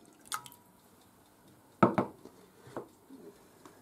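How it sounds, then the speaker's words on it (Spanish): Lemon juice is poured into a pan of coffee cake syrup: a couple of short, close splashes and drips, then a few softer kitchen sounds. "el zumo de limón,"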